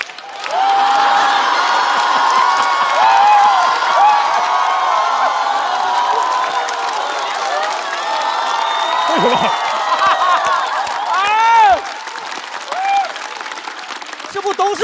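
Studio audience at a Chinese stand-up comedy show breaks into sustained applause with cheers and whoops, loud and continuous for most of the stretch before easing slightly near the end.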